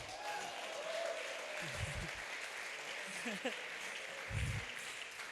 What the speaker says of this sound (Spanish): Bríndenle un fuerte aplauso al Señor.